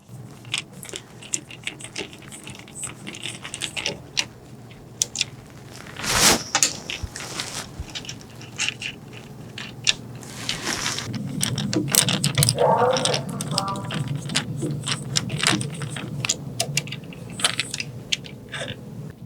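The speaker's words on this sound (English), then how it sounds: "We're going to take the brush caps off and pull them out. Just use a flathead with this." A flathead screwdriver pries the brush caps off a DWS780 miter saw motor and the brushes are pulled out. Small metallic clicks, scrapes and taps come up close, with sporadic louder clacks over a low hum.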